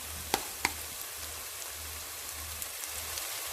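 Chopped onions with ginger garlic paste sauté in a pan for dhaba chicken, giving a faint, steady hiss with two sharp utensil clinks near the start.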